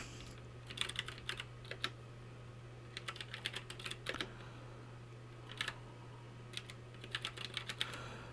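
Keys on a computer keyboard clack in short, quick bursts separated by pauses as a command is typed, close and fairly quiet over a steady low electrical hum, with no talking.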